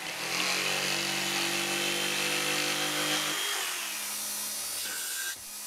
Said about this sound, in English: I used a jigsaw for the cut.